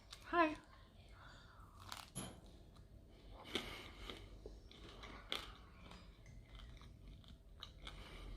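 Someone chews a rice and bean patty with tempeh or TVP close to the microphone, producing irregular wet crunches and bites; a voice and faint ketchup-coated mouth sounds mingle throughout.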